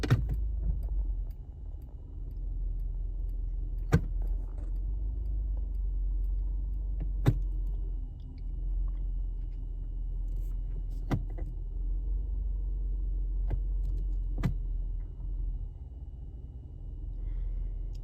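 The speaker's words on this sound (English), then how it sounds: "we're gonna start the car and then run it through the gears slowly, pausing a few seconds at each gear" A 2007 Subaru Outback engine idles with a low, steady hum while the car is run slowly through its gears, and a few sharp clicks stand out at intervals over the quiet drone.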